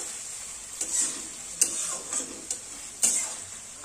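Low, steady sizzle of frying in a pan with a little turmeric powder, a spatula clinking and scraping against the pan at irregular intervals, close and fairly quiet.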